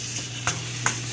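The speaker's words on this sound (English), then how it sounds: "throw in some garlic. Get that sauteing." Garlic sautéing in a pan for chicken pad thai, a steady close sizzle with two quick scraping stirs of the utensil.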